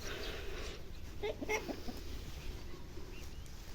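A hen gives a few soft clucks amid steady outdoor background noise, faint and close by.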